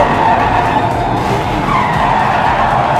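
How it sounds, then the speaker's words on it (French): Race car drifting through a corner with loud, sustained tire skidding and squealing over engine roar, close and continuous for three seconds. "Scotty Neckel part en drift, certainement fatal"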